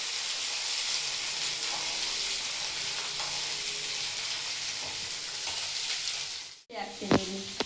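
Chickpeas, potato and brinjal palya fries in a pan with a steady, close sizzling hiss that holds throughout, then a brief break followed by a few louder stirring scrapes and clanks.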